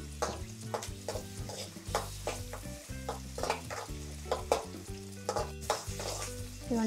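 Pasta ingredients fry over a high flame in a pan, crackling and hissing continuously while a utensil scrapes and stirs in a repeated, uneven rhythm close by.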